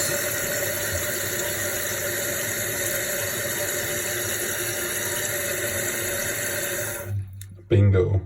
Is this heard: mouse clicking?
no